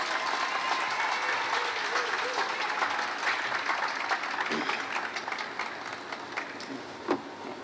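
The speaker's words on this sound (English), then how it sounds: "Let's give Trevor a big round of applause." Applause from a press conference audience, soft and somewhat distant, a steady wash of many hands with a few sharper claps near the end.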